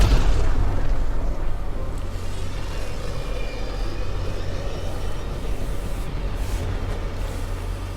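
Starship Tempest departing in the Mass Effect: Andromeda video game: a sustained loud, deep engine rumble with booming low end, steady throughout without voices.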